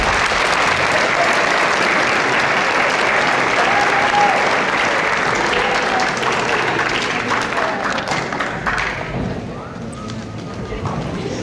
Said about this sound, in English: Let's give all these students a nice round of applause